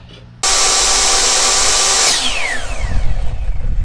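A Ridgid table saw switches on abruptly with a loud, high whine, runs steadily for under two seconds, then its electric brake stops the blade quickly as the pitch sweeps downward, leaving low rumbling background.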